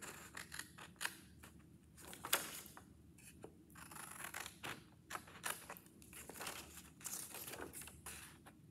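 Crisp snipping of scissors through paper, a run of short irregular cuts close by with faint rustling between them, no voices.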